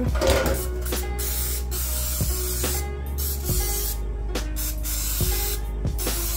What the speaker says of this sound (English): I'm going to spray the grilling spray on the grilling rack.